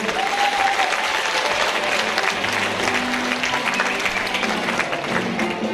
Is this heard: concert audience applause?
yes